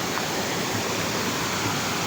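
A strong mountain river current rushes in a dense, unbroken roar of flowing water close by, steady and loud with no voices.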